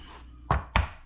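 Garlic cloves smashed twice on a kitchen board, two sharp heavy thuds in quick succession over a quiet background.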